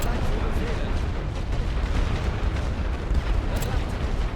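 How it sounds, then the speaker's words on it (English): Rumbling artillery fire in The Great War: Western Front, a low, continuous booming roar with dull, overlapping blasts that drone on steadily, with a voice faintly present. "I'm just gonna kind of throw some artillery out there."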